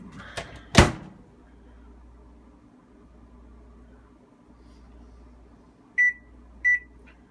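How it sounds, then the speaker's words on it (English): Household microwave oven with a loud door clunk near the start, a quiet running hum, then two short electronic beeps toward the end. "lest you doubt that I actually did put it in the microwave"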